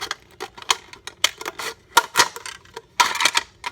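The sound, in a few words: cutting strips from a plastic cup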